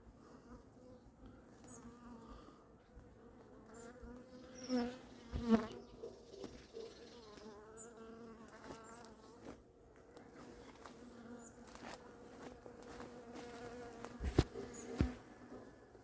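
Bees buzz steadily and softly close by during a hive relocation at Saint-Méry, their drone rising and falling as individual insects pass near, with no voices.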